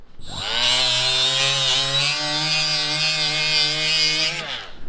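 Power grinder working down a metal steering column in a race car during a steering wheel quick-release install: a loud, steady, high-pitched whine that holds for several seconds then cuts off.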